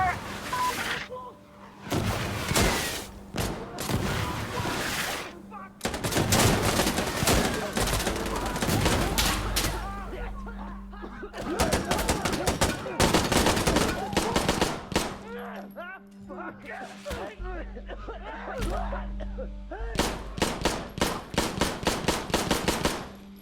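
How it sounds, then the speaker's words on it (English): Sustained automatic gunfire from a PKM and M16A2 rattles in long bursts during a Checkpoint match on the Outskirts map in Insurgency: Sandstorm, loud and close, with brief pauses and some voices mixed in. "Suppressing fire."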